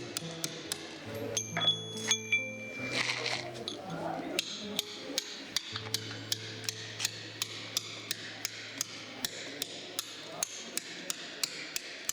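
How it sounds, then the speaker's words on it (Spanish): A hammer drives a chisel into stone, carving an inclined plane, with sharp metallic strikes repeating in a steady rhythm, close and distinct, after a short stretch of scattered clinks and tones. "vamos aproximándonos poco a poco con el cincel a los carriles o tiradas del plano inclinado"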